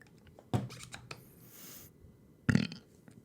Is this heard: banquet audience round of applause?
no